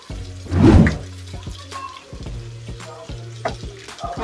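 Curry with coriander powder being stirred in a pan, a loud scraping burst near the start followed by a low sizzling simmer, with soft background music underneath.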